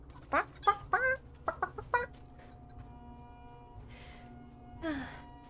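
Chickens in the Lord of the Rings Online game cluck in a quick run of sharp, close calls during the first two seconds, then fall quiet over a soft ambient hum with a couple of faint later squawks.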